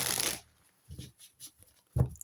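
A deck of oracle cards being shuffled up close, with one broad riffle at the start, then a few soft card slaps and a firmer tap near the end, set against quiet room tone.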